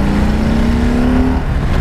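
Harley Davidson Softail Heritage motorcycle engine held at a steady high rev, a continuous loud drone that rises slightly in pitch before dropping off near the end, with no talking.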